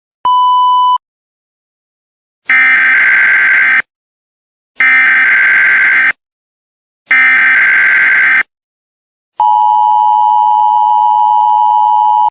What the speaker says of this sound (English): This is an emergency alert.